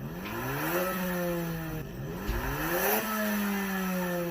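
A 2020 Honda Civic Si engine revs up repeatedly through a loud, throaty aftermarket exhaust, pitch climbing and dropping in two or three pulls, close and prominent.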